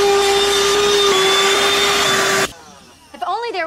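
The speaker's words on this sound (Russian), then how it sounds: "Я купила маленький пылесос." A small handheld vacuum cleaner runs with a loud, steady high-pitched whine for about two and a half seconds, then shuts off abruptly, followed by a brief voice.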